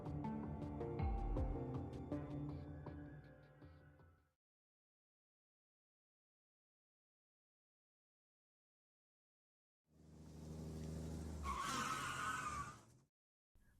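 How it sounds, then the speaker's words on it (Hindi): A car brakes hard and skids to a sudden stop in front of a van in a Hindi audio drama, with a rough tire rumble, then silence, then a second burst ending in a sharp high tire squeal. "अचानक सामने आई वैन से मोहिनी ने इतनी जल्दी और तेज ब्रेक लगाया था"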